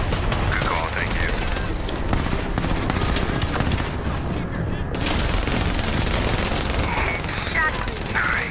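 Dense, continuous gunfire and bursts from the multiplayer shooter video game The Division, steady and loud throughout with a few booms, under faint background voices.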